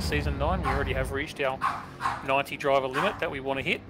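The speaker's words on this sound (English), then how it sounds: "Sorry about the barking dog in the background" A dog barks and yips in the background while someone talks steadily in the foreground, the barks brief and partly masked by his voice.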